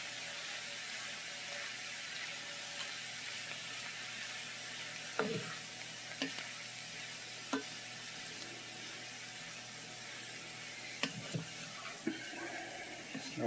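Vegan chick'n pieces frying in a pan make a quiet, continuous sizzle, punctuated by several sharp scrapes and clicks of a spatula, fairly faint and with no voices.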